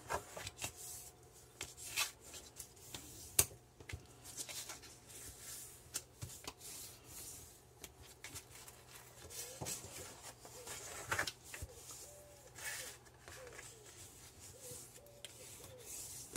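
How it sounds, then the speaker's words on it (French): Paper pieces for a handmade mini album being creased into folds, heard as soft, quiet rubbing and scraping strokes with occasional light taps, close and unhurried with no talking. "je vais marquer mes plis tout de suite"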